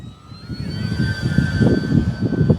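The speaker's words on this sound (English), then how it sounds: "this plane has just been super, super good for flying around, just cruising around, doing fun stuff" An Arrows Bigfoot 1.3 m radio-controlled plane flies overhead, its electric motor giving a steady high whine that holds and shifts pitch slightly, over outdoor wind rumble, fairly loud and continuous with no talk.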